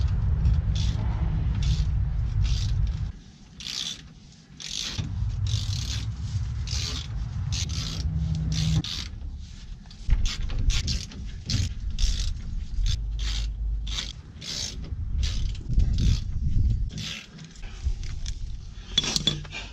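Metallic clinks and scrapes of a socket wrench loosening bolts on the rear differential cover of a 1999 Ford F-250 Super Duty, close and steady with repeated ratcheting clicks and a low rumble beneath.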